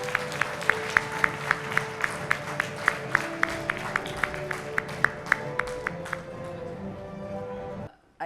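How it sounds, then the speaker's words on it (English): Applause at an award ceremony for a retina update meeting, with sharp regular claps standing out over a steady crowd clatter for about eight seconds before cutting off, and background voices murmuring beneath. "A round of applause, ladies and gentlemen,"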